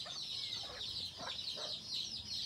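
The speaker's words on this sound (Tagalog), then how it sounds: "Native ang inahin." A native hen clucks in short soft bursts, several quick calls spaced across a farmyard with faint background noise and no talking.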